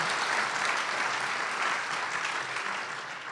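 Conference attendees keep up sustained applause for the panelists, even and dense at first and then tapering slightly toward the end.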